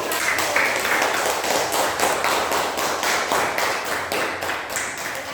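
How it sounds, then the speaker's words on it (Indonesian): A classroom of primary school pupils clapping for a student group, dense continuous applause with a steady patter of many hands throughout, fairly close and loud. "Tepuk tangan buat kelompok"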